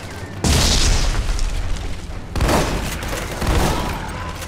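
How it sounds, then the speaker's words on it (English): Grenade blasts in the co-op shooter Army of Two: The Devil's Cartel hit as two loud booming explosions, the first at the start and the second midway, each followed by heavy rumbling debris and battle noise. "Grenade out!"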